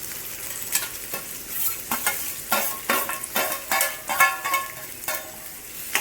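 Onion fries in a pan for a Manchurian recipe, with a steady sizzle under repeated scraping stirs, close and fairly loud, without talk.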